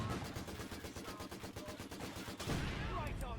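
A Vickers machine gun in Company of Heroes 2 fires rapid, evenly spaced bursts, a dense rattling stream that runs for over two seconds and then gives way to a lower, rumbling boom.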